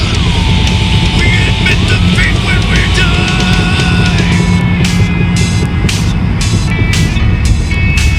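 A Pontiac Firebird rolling on flat-spotted tires, its loud, steady road and engine noise running throughout, with a whine shifting in pitch and a run of regular thumping pulses in the later seconds.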